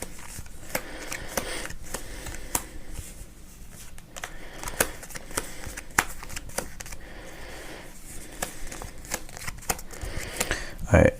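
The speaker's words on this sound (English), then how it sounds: "So gather the cards up and lay the cards out again." Playing cards are gathered up and dealt out in rows, a soft patter of flicks and slaps on a table, close but quiet under a voice speaking throughout.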